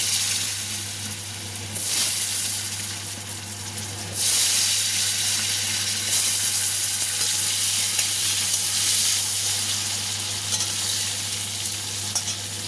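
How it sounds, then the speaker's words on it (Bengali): Potatoes frying in leftover oil in a kadai after fish were fried, a steady close sizzle and hiss that flares louder at times as they are stirred, with no talk. "আর কড়াইতে একটু তেল আছে, আমি ওই কড়াইতে আলুগুলোকে ভেজে নেব।"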